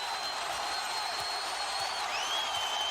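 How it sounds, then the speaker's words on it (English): NBA Finals basketball arena crowd rising in a broad, steady roar of cheering and applause, distant and diffuse, with a faint whistle-like tone running through it. "The crowd getting on its feet"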